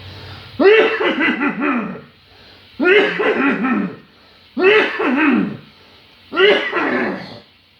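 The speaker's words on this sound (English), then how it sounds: "Cough. We're trying to cough." Four forceful bouts of deliberate coughing during a breathing exercise, each a cluster of harsh rapid coughs lasting over a second, separated by short pauses, close and loud.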